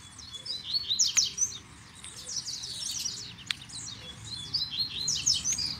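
A double-collared seedeater (coleiro) sings out in the open bush, giving bright, rapid chirping phrases in repeated bursts at moderate distance over a low, quiet background.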